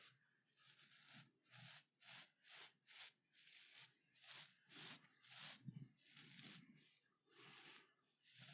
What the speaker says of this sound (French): juste passer un petit coup de brosse pour voir un petit peu ce que ça donne